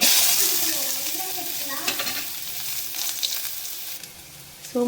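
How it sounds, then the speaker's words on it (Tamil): Cauliflower and onion fry in hot oil in a pan, giving a loud, steady sizzle with stirring scrapes and clinks throughout, no talking. "எண்ணெய் ஊற்றியாச்சு காலிஃப்ளவர் இருக்கிறேன் வெங்காயம் சேர்த்தேன்"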